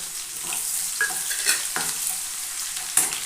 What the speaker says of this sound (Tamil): வெங்காயம் வதங்கட்டும் வெங்காயம் வதங்கியாச்சு